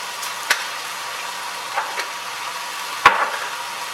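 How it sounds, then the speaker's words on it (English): Chicken lettuce wrap filling of mushrooms, cayenne and other ingredients stirred in a pan, a soft sizzle under a few sharp scrapes and taps of the utensil against the pan. "Stir all these ingredients in"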